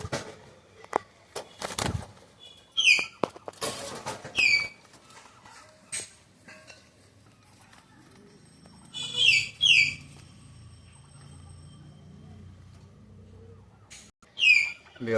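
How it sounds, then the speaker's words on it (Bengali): Birds calling near a loft of Indian Chini Rampuri pigeons: several short, sharp whistled chirps in scattered bursts over low rustling and faint soft cooing, with quiet gaps between calls. "এটা হচ্ছে ইন্ডিয়ান চিনি রামপুরি, অরিজিনাল ফ্রেশ, কোনো কাটা ফাটা নাই, সাদা ক্রিম চোখের কবুতর"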